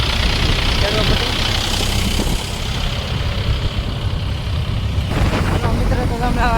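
A Mahindra tractor engine, one of three tractors setting out to plough a hill, idles and rumbles steadily, with a brief change in tone midway and a clanking sound near the end.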